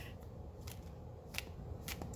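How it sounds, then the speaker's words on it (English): Tarot cards are shuffled by hand in a few quick, crisp riffling bursts, close to the microphone against a quiet background. "I'm going to shuffle my cards"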